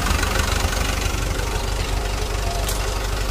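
A Hino Dutro / Toyota Dyna truck diesel engine keeps running at idle after the ignition is switched off, a fault traced to the fuel-cut solenoid; a steady, close, low rumble with a faint knock holds through the whole stretch.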